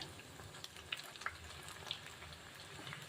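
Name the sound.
cauliflower florets frying and being flipped in pan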